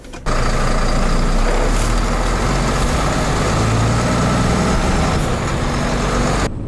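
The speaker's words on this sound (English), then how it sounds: "So we set off on the drive in the 560S, Scania's 13 litre straight 6-cylinder diesel engine." A Scania 560S truck with a 13 litre straight-six diesel pulls away on the road, its engine a loud, steady drone with heavy low rumble that holds for several seconds after a brief quiet start.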